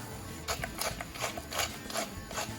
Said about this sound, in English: Good grinding of pepper and a good grinding of salt.